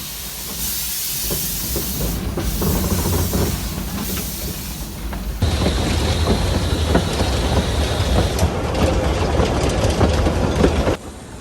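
Steam locomotive at Le Chambon-sur-Lignon releasing a continuous loud hiss of steam over rumbling, clattering wheels on rails, growing louder and denser midway through.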